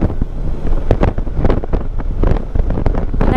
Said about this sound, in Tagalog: Chill lang tayo kasi lakas ng hangin dito.